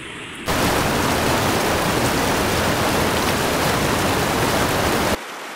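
Steady, loud rushing of the Uksuna river at a crossing, a continuous broadband roar of flowing water that is even and unbroken, with no voices.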